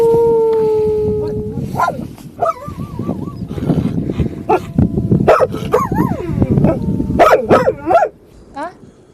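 A person imitates a dog's bark, giving several yipping, barking calls with rising and falling pitch, loud and close, mixed with other voices talking over a sustained tone.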